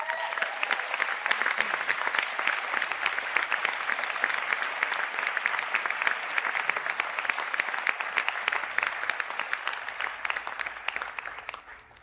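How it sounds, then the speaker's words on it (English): Sustained audience applause for graduates at a conferring ceremony, a steady, even wash of many hands clapping that carries on for several seconds before tapering off abruptly at the end. "I ask the graduates of Creative Design to stand for a round of applause"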